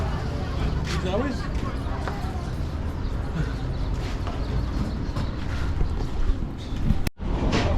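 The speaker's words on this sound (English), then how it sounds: "Still sailing the old-fashioned boats, taking the people across" Steady wash of water and wind noise from an old-fashioned boat crossing the river at Abu Simbel, Egypt, constant and fairly loud, with a sharp bump near the end.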